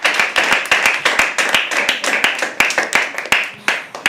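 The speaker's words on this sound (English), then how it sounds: "Guys, round of applause for someone actually liking science" Applause from the crowd at a live poetry open mic, loud and close, with sharp individual handclaps in a quick, uneven rhythm running throughout.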